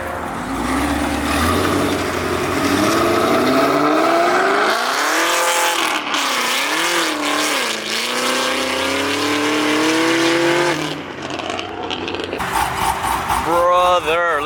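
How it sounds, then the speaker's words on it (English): A Corvette Z06 leaving a car show in a park revs hard and accelerates away, its loud, rising engine roar sweeping up and down in pitch, with crowd noise and talking throughout. "That thing gonna sound crazy when it leaves. Bro, listen to this Z01 whenever he leaves."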